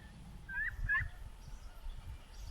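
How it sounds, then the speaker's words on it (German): Two short honking calls from geese a short way off at a farm in Saxony-Anhalt, over low outdoor rumble. "Die Gänse scheinen etwas misstrauisch zu sein."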